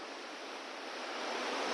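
The Mandakini river in the hills rushes past its bank as a steady, dense roar of flowing water, loud and continuous, swelling slightly toward the end, with no voices.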